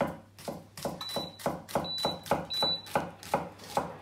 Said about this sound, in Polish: a ja już szybko kroję cebulę